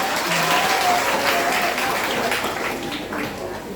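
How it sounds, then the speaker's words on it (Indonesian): A hall full of high school students and guests at a student council (OSIS) debate and election applaud their teacher, a dense burst of clapping that holds strong and then tapers slightly toward the end. "Tepuk tangan buat Pak Guru dulu ya."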